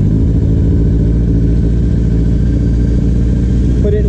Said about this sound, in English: Go ahead and start the bike.